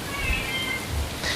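A hungry house cat meows nearby, a short whiny cry amid faint room noise.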